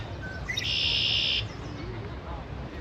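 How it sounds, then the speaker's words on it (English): A single bright, sustained bird call rings out for about a second in Park Dieppe, over steady outdoor background noise, fairly loud and close. "Birds are loud."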